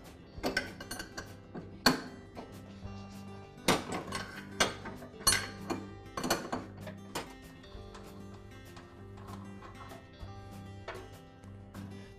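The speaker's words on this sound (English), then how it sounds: "I'll use a wrench to remove the nut" A wrench works loose the pulley nut on a Troy-Bilt Pony lawn tractor while a screwdriver holds the pulley: close, irregular metallic clinks and clanks with short ratcheting taps, louder at first and thinning out, no talking.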